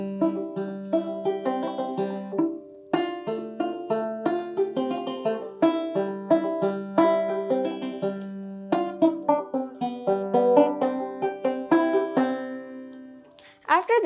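A banjo plays the tune Liberty from tablature as a bright, steady run of plucked notes, mostly quick and rhythmic, with no voices.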